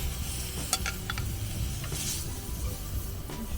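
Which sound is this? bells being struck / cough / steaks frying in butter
steaks frying in butter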